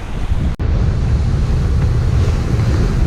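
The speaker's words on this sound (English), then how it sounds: "We're kind of going into the waves, slightly upwind" A Hallberg-Rassy 54 sailboat pushes slightly upwind into ocean waves on a grey day off the Caribbean coast, a loud, steady roar of wind buffeting the microphone and rushing water, broken by one brief dropout.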